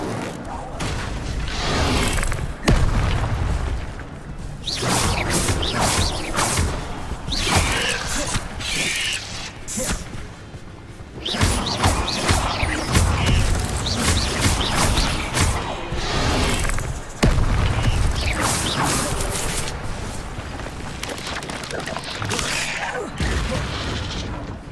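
Incendio fire spell blasts in Hogwarts Legacy, dense repeated booming bursts and crackling impacts throughout, loud and close, mixed with combat effects and occasional shouted spell names.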